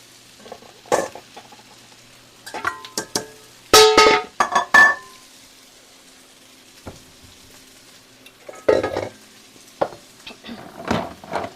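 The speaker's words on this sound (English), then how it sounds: "I'm going to crack about 6 eggs for my frittata here" Eggs are cracked one after another into a bowl for a frittata, each a sharp tap and crack in scattered bursts separated by quiet pauses, close and fairly loud.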